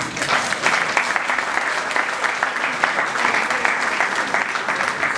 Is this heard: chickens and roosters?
no